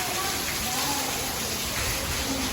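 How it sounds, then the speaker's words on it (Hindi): Heavy rain pours outside a car, a dense, constant roar of drops that fills the space at a steady, fairly loud level with no break. "फुल बारिश, खतरनाक बारिश हो रही है।"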